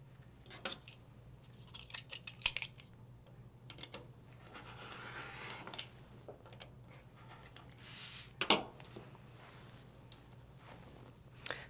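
A blade cuts fabric for quilt triangles, heard as faint, sparse ticks and snips against a low, steady hum, with one sharper click standing out near the end.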